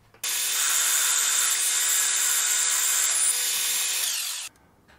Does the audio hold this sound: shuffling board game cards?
no